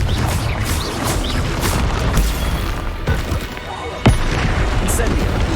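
Confringo fire blasting spell exploding in the Hogwarts Legacy video game, a dense rumbling barrage of game effects and combat noise with a sharp, loud blast near the end, continuous throughout.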